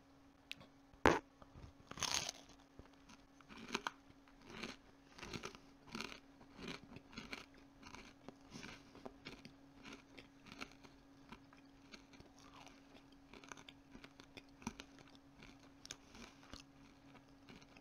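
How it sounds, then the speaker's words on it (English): Crunchy Pizza Hut cookie bitten and chewed close up, a sharp loud first crunch followed by a long steady series of smaller rhythmic crunching chews under a low constant hum. "Be careful when you bite into it. It's crunchy as hell."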